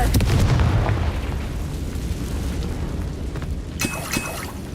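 A Confringo blasting spell explosion in Hogwarts Legacy: a loud booming burst at the start fades into a low rumble, followed by a second sharp crack and a smaller pop.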